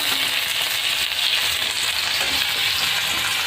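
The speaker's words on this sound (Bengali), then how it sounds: "প্রথমে দিয়ে দিচ্ছি রসুন কুচি, পেঁয়াজ কুচি, তারপর এগুলোকে ভালো করে মিশমিশে করে নেড়ে নেব।" Chopped garlic and onion fry in a little oil while being stirred for a chow mein omelette, producing a steady, loud, close sizzle throughout with no talk.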